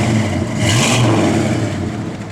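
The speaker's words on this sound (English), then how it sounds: "Couple little revs." A 1971 Plymouth Road Runner V8 gets a couple of quick revs up close, its engine rising into a loud throaty roar before settling back toward a rumbling idle.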